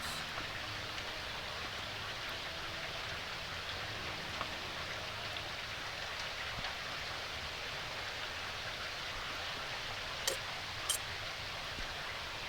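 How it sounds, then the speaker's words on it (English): Steady, even rain hiss falls in the video game Daggerfall Unity, a dense constant wash with a couple of faint brief clicks near the end and no voices. "Hopefully we can get out of the godforsaken rain."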